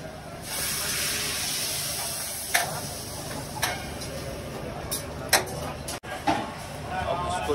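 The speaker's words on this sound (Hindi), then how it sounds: "देगी मिर्च डल गई और तड़का लगेगा पूरी ग्रेवी वाली चाप पे बहुत ही बढ़िया तरीके से" Steady hiss of spices and deggi mirch sizzling in hot oil for a tadka over gravy chaap, close up, with a few sharp clinks of a utensil against the pan.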